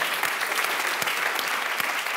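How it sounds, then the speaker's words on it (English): An audience at a debate evening on smarter mobility breaks into applause, a dense, steady wash of clapping from a medium-sized crowd that holds evenly throughout. "I think a round of applause for this."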